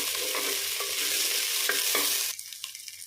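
Small onions sautéing with garlic in hot oil for a spicy tamarind curry, stirred in the pan: a loud, steady sizzle and fry with stirring scrapes that drops abruptly to a quieter crackle near the end.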